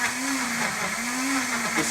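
Blender mixing a protein milkshake with vanilla ice cream, a loud continuous motor whir with a steady low hum that wavers slightly in pitch as it runs, no talk over it.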